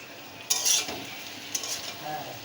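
A spoon stirs water spinach with a fish head in a pan, giving a brief scrape and clink over a soft sizzle, close and fairly quiet.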